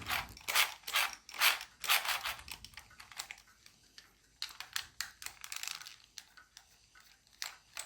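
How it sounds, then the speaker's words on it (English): The electric steering motor in a TOMY infrared RC car drives its gears in short whirring, clicking bursts, quiet and close, with brief pauses between runs. "electric motor there, pointing straight down. That will be turning some gears that eventually move that one side to side"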